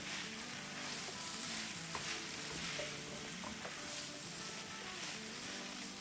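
Chicken stir-fry with peppers and onion being stirred in a hot pan, a continuous loud sizzle with scattered scraping and clatter of the spatula throughout, no voices.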